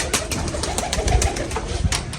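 Sialkoti pigeons in a loft, a busy flock cooing and fluttering up close, with soft rolling coos layered over rustling and scattered wing flaps, loud and continuous.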